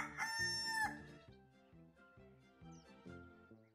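A rooster crows loudly once, a bright drawn-out call, followed by light cheerful music continuing underneath.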